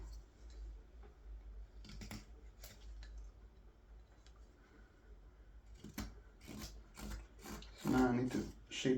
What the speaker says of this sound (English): Cut the edge here.